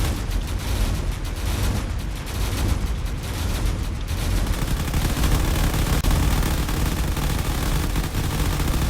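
Weapons fire and anti-missile defenses in the Drone Wars video game, a dense continuous roar of rapid fire and blasts at high loudness with no pauses.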